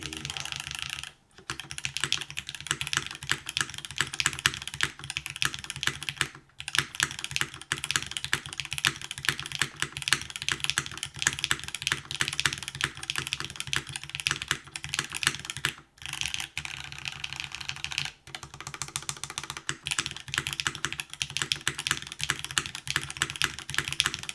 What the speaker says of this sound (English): the spacebar is a little bit thuddy